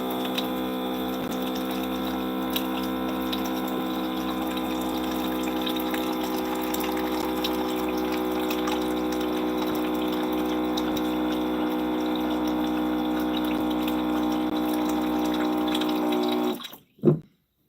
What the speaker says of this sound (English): Now let me put some water in here.